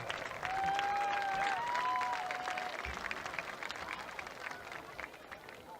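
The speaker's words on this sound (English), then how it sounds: "Let's give them a round of applause." A crowd in the stands at a high school football game, Lake Hamilton Wolves against Greenwood Bulldogs, applauds in a dense, sustained wash of clapping heard from a distance. A whistle-like tone rises briefly near the start, and the applause slowly thins toward the end.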